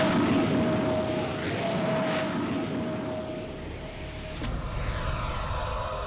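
A passenger airliner, Indian Airlines flight IC-814 from Kathmandu to Delhi, roars through takeoff as a loud, steady broadband engine rumble with a thin sustained whine, swelling and easing slightly, with no voices.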